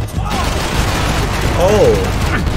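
A dense gunfight in Max Payne 3 crackles with rapid shots and booming impacts, loud and continuous, while voices speak over the shooting.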